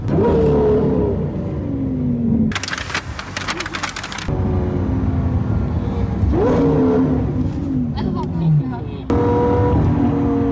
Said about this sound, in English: Oh, those downshifts. Those are extreme.